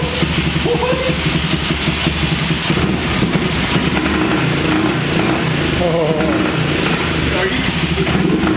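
A Honda Fourtrax TRX 350 ATV, revived after sitting 26 years since 1995, idles loud and close with a steady rough engine chug while excited voices talk over it.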